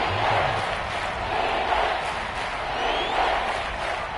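A Kansas City stadium crowd roars in a football video game, a dense, sustained wash of cheering and yelling that swells slightly and never lets up.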